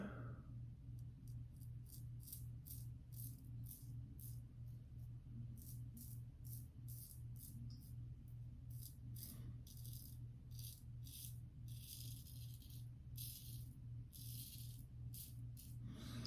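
Raspy, high-pitched scraping of a Chiseled Face titanium safety razor across stubble, mostly against the grain, repeated in steady short strokes, close and fairly quiet.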